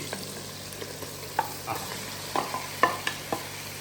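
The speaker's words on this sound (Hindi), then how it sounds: "लो बस अब इनको हल्का सा फ्राई करते हैं।" Meat pieces fry with green and red chillies in a pan, a soft steady sizzle broken by several sharp stirring clicks and scrapes, close and fairly quiet, with no talk.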